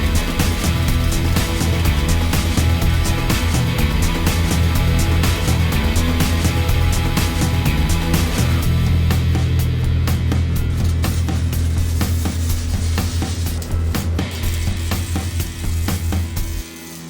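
Rebar being welded onto a ranch blade with hard face rod during winter maintenance: a steady, loud, continuous arc crackle and buzz that holds for most of the stretch, then drops away near the end, with no talking.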